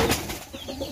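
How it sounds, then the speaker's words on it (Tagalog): Pigeons kept on a farm give a quick burst of wing flapping followed by a few short, soft coos, close and brief. "Yung mga kalapati naman"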